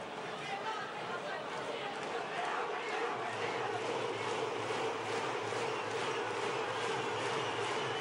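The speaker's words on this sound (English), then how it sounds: "shouts for the challenger." A partisan crowd at a heavyweight boxing match keeps up a steady roar of shouting and chanting for the challenger, dense and continuous throughout, heard from within the arena.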